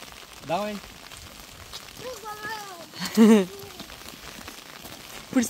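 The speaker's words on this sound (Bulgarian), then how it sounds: "Не е спрял да вали от снощи." Steady rain falls on the roof and surroundings of a camper van, a soft continuous patter that runs through the whole stretch while people talk over it at intervals.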